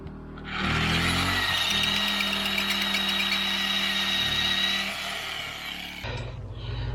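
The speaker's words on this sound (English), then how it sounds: "got a new drill, and it takes SDS Max bits." An SDS Max rotary hammer drill runs at full power in one steady, loud, high-pitched whine lasting several seconds, then winds down and stops, close by with no voices.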